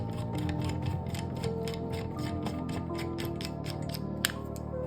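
Rivnut tool setting a rivet nut on a DIY camper build, heard as a steady mechanical clicking and ratcheting with a rhythmic series of short clicks over constant hum, ending in one sharper snap.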